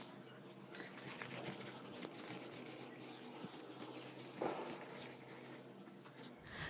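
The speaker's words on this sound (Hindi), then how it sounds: "मैं इसको रब करता हूँ।" Soft, steady rubbing goes on without a break, a faint, even scratchy friction that stays at one level throughout, with no voices.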